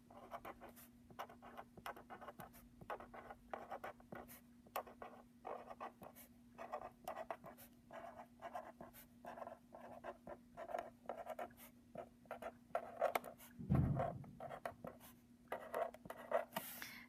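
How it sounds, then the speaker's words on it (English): A pen scratches out numbers on paper in quick, short strokes with small pauses between figures, faint and close, with a low steady hum underneath and no talking. "I'm going to write the numbers in order from least to greatest."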